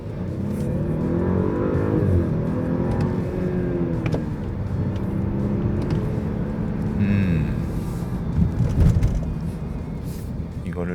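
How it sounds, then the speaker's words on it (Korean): Audi A8 55 TFSI on the road, its engine drone swelling and easing as the automatic transmission shifts, with steady cabin noise and occasional low talk underneath. "이런 식으로 변속기가 다시 꼴록꼴록하네."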